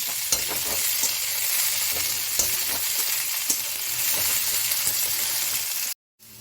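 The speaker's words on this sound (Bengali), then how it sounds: "এবার একটু নাড়িয়ে নিই, সবজিগুলোকে একটু সতে করে নিতে হবে।" Chilli and capsicum sauté in a pan for spicy semolina, a dense, even sizzle with scattered clinks of the spatula as they are stirred, cutting off abruptly near the end, with no speech.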